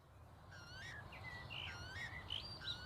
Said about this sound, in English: Look at that cheeky Weka.